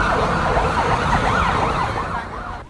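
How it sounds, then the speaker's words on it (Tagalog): Several ambulance sirens wail in a steady rising and falling pattern, loud and close, over road traffic noise at a scene after twin bombings at a Jolo cathedral, the sirens fading slightly at the end. "ang pagdaan ng mga ambulansya"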